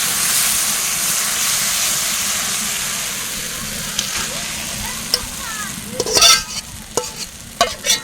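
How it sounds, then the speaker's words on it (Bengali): Mutton pieces go into a pan of well-fried, sizzling masala for a home-style goat curry, a steady loud hiss that breaks into sharper crackles and spoon scrapes as the meat lands. "মশলা কষানো হয়ে গেছে মাংস দিয়ে দিচ্ছি"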